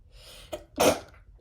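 A single sharp sneeze, preceded by a quick breathy intake, close and loud, with no talking around it.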